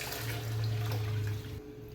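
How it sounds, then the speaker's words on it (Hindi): Water poured from a tap into a pot of washed masoor lentils in a home kitchen, a close, steady splashing stream that cuts off near the end. "पानी डालते हैं"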